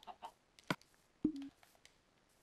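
Chickens cluck in the video game Minecraft: a few short, close clucks and one longer squawk in quiet surroundings, with no talking.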